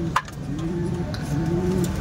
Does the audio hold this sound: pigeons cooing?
yes